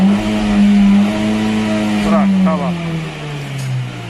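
A car engine revved on request and released after a timing belt replacement, a steady droning hum that swells and eases, with someone speaking nearby.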